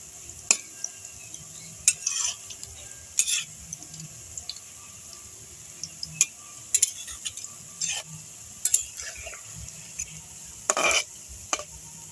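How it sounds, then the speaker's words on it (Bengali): Rice-flour pakoras fry in hot oil with a constant sizzle, while a utensil stirs them in sharp, irregular clinks and scrapes against the pan. "এবার আমি পকোড়াগুলো হালকা নেড়ে দেব।"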